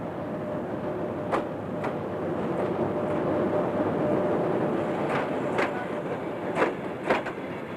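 Trans-Siberian railway train rolling near the end of the line at Nakhodka, a steady broadband rumble with scattered sharp clicks and knocks from the wheels and carriage, fairly close and continuous, with no voices.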